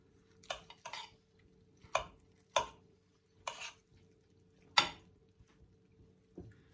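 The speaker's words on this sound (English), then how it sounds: "I'm gonna dish it up" Pork steak and potatoes are served from a single pan: about half a dozen separate, fairly quiet clinks and scrapes of a utensil against the pan, spaced out with short pauses and no voices.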